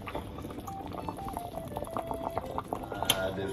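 Water bubbling at a rolling boil in a pot, a steady dense burble with small pops, close and moderately quiet.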